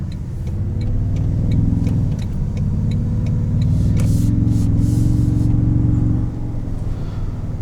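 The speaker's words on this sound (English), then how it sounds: "this transmission at full throttle on upshifts is phenomenal, which we'll see when we go onto this on-ramp" A 2022 Toyota Tundra TRD Pro accelerates at full throttle onto an on-ramp, engine pitch climbing and dropping through upshifts over a steady drone, with a faint regular ticking alongside.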